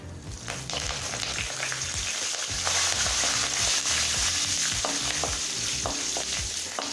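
Peanuts and curry leaves fry and sizzle steadily in hot oil for brinjal rice, with stirring scrapes and spatters running close and loud throughout, no voices.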